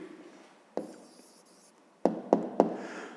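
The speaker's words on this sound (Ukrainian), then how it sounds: "Записуємо відповідь." A pen writes an answer by hand during a fifth-grade maths exercise, with a short scratchy stroke followed by a pause and then three quick taps and strokes, close and fairly quiet.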